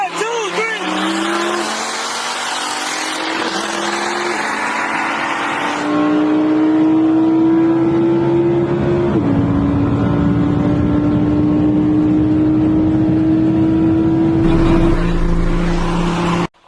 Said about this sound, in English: We have a stock Viper versus a stock Audi R8.